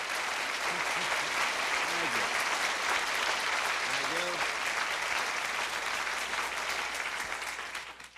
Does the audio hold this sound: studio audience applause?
yes